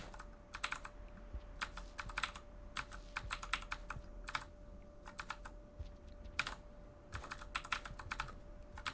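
A computer keyboard is typed on during a Rain World speedrun stream with no noise filter, giving bursts of crisp clicky keystrokes in irregular clusters separated by short pauses, close and fairly quiet over a faint steady hum.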